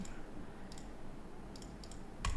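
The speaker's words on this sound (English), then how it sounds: "I keep clicking it too much" Mouse clicks while checking a Bitcoin price chart, a few light taps spaced through a short stretch and a firmer click right at the end, set against steady low room noise.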